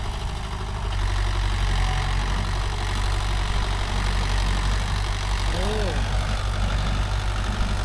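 A Mahindra Yuvo Tech Plus 585 4WD tractor engine drones loud and steady while pulling a five-tine cultivator through a field, a continuous low rumble with voices faintly talking over it.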